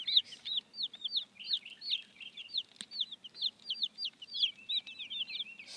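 Chickens in a basket giving a steady run of short, high chirping and clucking calls, close by and fairly quiet, with no talk.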